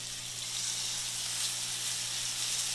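A pork chop sears in a hot pan with a steady, even sizzle and hiss that holds at moderate volume, with no talking over it.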